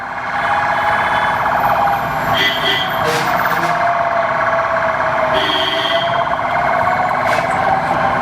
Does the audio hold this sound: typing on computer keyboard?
no